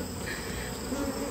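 Honey bees swarm and hum around a beehive nuc, a steady close-up buzzing drone with no pauses, heard on its own without any voices.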